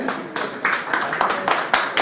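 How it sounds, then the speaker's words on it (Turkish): An audience at a retirement night claps in steady applause, a dense patter of hands filling the room with some murmuring voices underneath. "kendilerini yerlerine, yerlerine alkışlarla uğurlarken"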